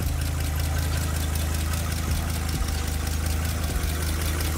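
A turbocharged race car's engine idles loudly and steadily up close, a continuous rough rumble with no break for the whole stretch.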